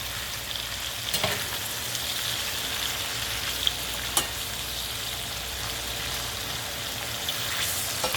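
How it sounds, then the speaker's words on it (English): Shrimp sautéing in a pan over medium-high heat give off a constant, even sizzle, with occasional faint clicks from stirring, and no voices. "all you're gonna do is just fry these up just a little bit, mix it around"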